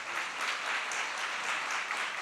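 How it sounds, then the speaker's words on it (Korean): A church congregation claps steadily together in an indoor worship setting, a dense, even wash of hand claps holding at moderate loudness throughout with no voices over it. "자, 한번 박수 한번 해주세요."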